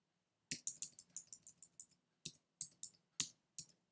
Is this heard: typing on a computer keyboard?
yes